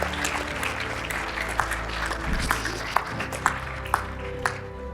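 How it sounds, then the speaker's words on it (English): Audience clapping after a call for a round of applause, a short warm wash of claps with a few sharp louder hits standing out, moderately close and fairly subdued. "Can we give her a round of applause that she's here?"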